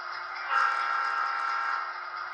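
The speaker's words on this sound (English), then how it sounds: "So when you're moving, you'll hear the track sounds." A steady electronic train rumble with a clattering rail texture from the sound decoder of an HO scale Broadway Limited Imports NW2 switcher, constant and moderately loud, swelling slightly after the start and holding without pause.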